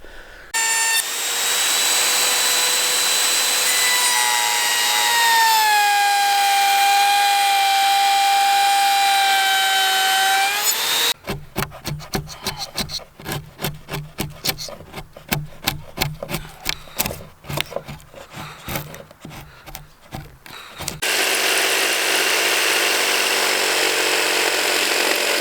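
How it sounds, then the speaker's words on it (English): A router cuts wood for a new gate: a loud high whine that drops in pitch as the bit bites, then a rough rapid chattering stretch of cutting, ending in a steady motor hum. "So I have to router all this here out of it, and this piece here."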